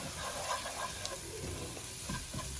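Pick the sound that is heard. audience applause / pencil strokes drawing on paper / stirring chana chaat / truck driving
stirring chana chaat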